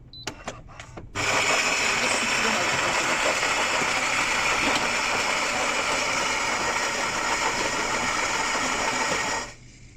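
A Philips 2200 EP2231/40 automatic coffee machine clicks a few times, then its loud grinder and pump drone runs for about eight seconds and cuts off.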